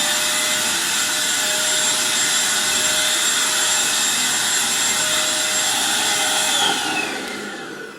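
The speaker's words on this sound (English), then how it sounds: "You can go ahead and just vacuum this really easily." A Eureka Blaze stick vacuum cleaner runs with a steady, loud motor whine and airy rush close by, holding constant before easing off slightly near the end.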